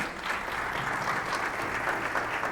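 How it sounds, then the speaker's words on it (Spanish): An audience greets architect Rodrigo Arboleda of Fast Track Institute as he comes up to speak, giving him thick, continuous applause that holds at a steady, fairly loud level without a break. "Que venga con nosotros el arquitecto Rodrigo Arboleda de Fast Track Institute. Un aplauso para él."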